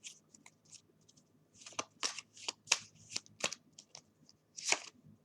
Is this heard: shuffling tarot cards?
yes